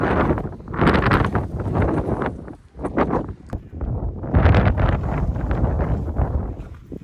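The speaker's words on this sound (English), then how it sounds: "It is cold and windy up here." Strong, cold wind gusts on a mountain summit on the Appalachian Trail buffet the microphone in loud, rough bursts, with a brief lull in the middle before the roar picks up again.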